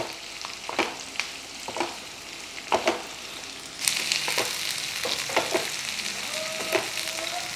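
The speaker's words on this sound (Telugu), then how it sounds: "ఆ ఉల్లిపాయలు వేసేసి ఈ ఉల్లిపాయల్ని మంచిగా లైట్ గోల్డెన్ షేడ్ వచ్చేదాకా ఫ్రై చేద్దాం" Long-sliced onions fry in a pan toward light golden, a moderate sizzle punctuated by repeated scraping stirs of a spatula, the hiss swelling louder midway and staying up afterward, with no speech.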